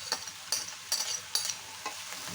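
Hilsa fish roe masala is stirred into onion flowers frying in a pan, a faint steady sizzle broken by about five rhythmic scraping strokes of a spoon.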